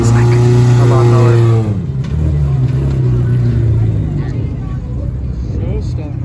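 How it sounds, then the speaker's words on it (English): A Honda car engine idles roughly and revs at a car meet with a loud, buzzy, lawnmower-like drone, voices talking over it at first before the engine noise carries on alone. "This Honda here sounds like a lawnmower."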